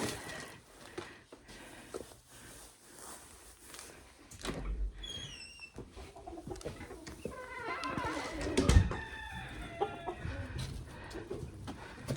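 Chickens clucking and squawking inside a rabbit's winter enclosure, scattered close calls growing busier toward the end, with rustling, a thump and a voice briefly speaking.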